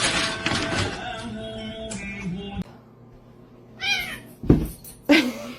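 A kitten meows close to the microphone, several short high-pitched cries separated by pauses, with a few soft taps and knocks in between.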